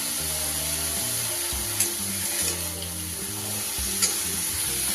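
Fenugreek leaves frying in a pan, making a loud, continuous sizzle with a low steady hum beneath it and a couple of faint taps from stirring.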